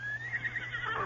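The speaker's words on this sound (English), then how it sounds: "Dan Reed pulled 2 horses to a halt" Horse neighing in an Old West radio drama as a rider pulls two horses to a halt, a single drawn-out whinny rising and wavering over a faint steady hum, fairly close and alone.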